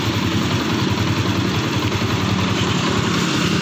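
A Yamaha Sniper MX150 motorcycle idles smoothly and evenly after a clutch housing repair, a steady, rapid low engine pulse with light mechanical clatter, close and alone without talk.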